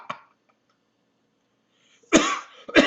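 A person coughs twice in quick succession, loud and close, after a short quiet gap.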